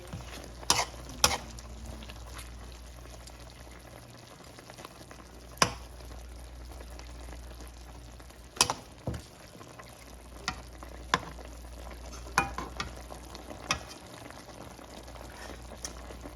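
Adobo chicken feet simmering in a pot, a low steady bubbling bed with occasional louder pops and utensil clinks scattered through, close and moderately quiet.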